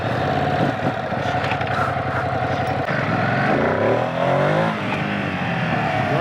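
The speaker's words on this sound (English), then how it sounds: "let's hop on it, let's take it for a ride, and let's see what this Hypermotard is all about" A Ducati Hypermotard V2 SP motorcycle being ridden, its engine droning steadily and loudly close by, with rising and falling revs as the rider shifts through gears.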